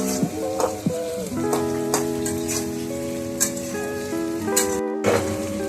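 Mushrooms and tomatoes fry loudly in a pan with a dense, crackling sizzle. Brief tonal squeaks and knocks from stirring cut through, and a short gap falls near the end.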